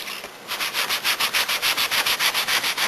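A pad works leather primer into the seat of a 1962 Porsche in steady back-and-forth strokes, a loud, close, rhythmic rubbing hiss pulsing about five times a second.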